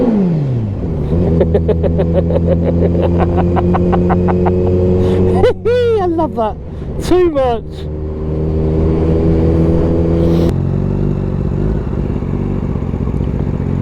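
A motorcycle revs hard inside a short tunnel, its engine note rising and falling in repeated sharp bursts with a steady droning idle in between, loud and close, with a brief spoken remark.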